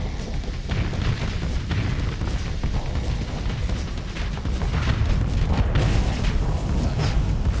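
Mjolnir weapon blasts fire in the space combat game Starsector. A dense, continuous barrage of loud booming explosions keeps overlapping with no gaps.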